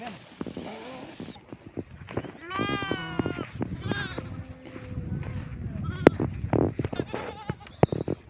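Sheep kept by a shepherd bleat repeatedly at close range, with wavering cries mixed with people chatting and light shuffling movement around the flock.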